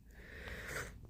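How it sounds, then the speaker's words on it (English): A pet bunny with hay fever sniffling up close, short faint snuffly sniffs and a wheezy breath in quiet surroundings. "Oh no, he's got sniffles"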